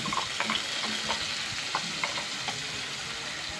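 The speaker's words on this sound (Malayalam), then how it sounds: "നേരത്തെ നമ്മൾ അരച്ചില്ലേ തക്കാളി, ഉള്ളി, മുളക്, മഞ്ഞൾപ്പൊടിയൊക്കെ ഇട്ടിട്ട് അത് ഒഴിച്ചു കൊടുക്കും" Ground tomato, onion, chilli and turmeric paste goes into ginger-garlic frying in a pan. A faint, steady sizzle follows, with light stirring clicks and no voices.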